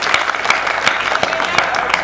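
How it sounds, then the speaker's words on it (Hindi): An audience claps briefly at a Hindi comic poetry recital, short and fairly loud, with scattered sharper claps standing out. "एक बार जोरदार तालियां बजाइए"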